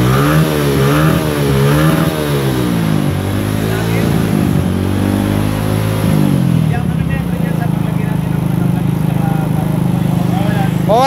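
A Suzuki Smash 115 motorcycle with lost compression idles after starting, its engine chugging loudly and close, with revs rising and falling. Someone talks over it for much of the time.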